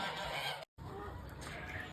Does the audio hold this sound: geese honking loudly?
yes